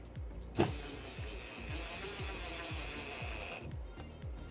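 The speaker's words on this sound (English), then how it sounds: "So we're just gonna drill it straight into the stud." A power drill drives a sheetrock screw into a wall stud while mounting a home theater, giving a steady whirring buzz for about three seconds after a sharp start, over a repeating low rhythmic thumping.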